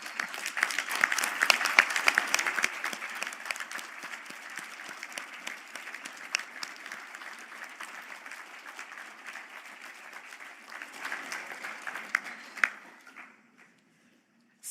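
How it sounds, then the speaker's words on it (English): Audience applause at a university graduation conferring ceremony in Galway, a dense sustained clapping that gradually thins and fades out near the end, with no talk over it. "give your supporters a round of applause"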